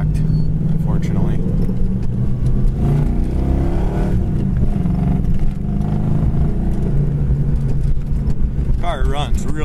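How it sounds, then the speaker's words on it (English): A 1985 Ford Mustang with a 5.0 V8 and five-speed manual drives down the road, engine rumbling and revving steadily with a faint rattle from an unlatched back hatch, while someone talks throughout. "as we're driving down the road, we're going to hear that little vibration from that back hatch not being properly locked"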